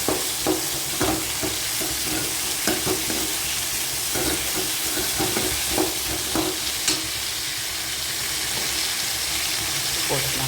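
Tomatoes sautéing in a pan, a steady close sizzle and hiss with repeated scraping stirs through the whole stretch, no voices.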